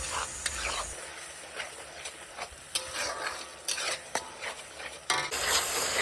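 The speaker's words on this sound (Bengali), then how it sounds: "এখন টমেটোর পেস্ট দিয়ে দেব, দিয়ে আবারও মশলাটা ভালো করে নেড়ে চেড়ে নেব।" Mutton spice masala with tomato paste being stirred and fried in a pan for Bengali mutton kosha with potatoes, a steady close sizzle broken by repeated scraping strokes of a spatula against the pan.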